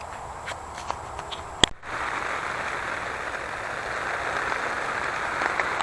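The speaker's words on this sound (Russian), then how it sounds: "Давненько я дождя не видел, не слышал. И вот он ночью сейчас пошел." Steady rain falls at night on a tent, a dense even patter that starts abruptly and continues close around the shelter, with a few sharper drops ticking before it begins.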